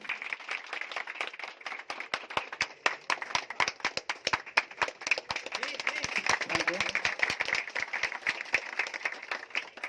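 Loud, sustained applause from a seminar audience welcoming a speaker, many sharp hand claps packed together in a continuous, energetic burst that holds steady for about ten seconds.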